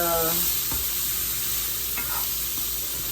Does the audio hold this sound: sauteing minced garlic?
yes